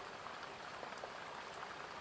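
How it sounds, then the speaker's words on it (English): Steady rain patters on a window during a storm, a dense, even hiss of drops with small taps scattered throughout, continuous and fairly soft, with no voices. "You can hear that storm outside, the rain on the window of this room"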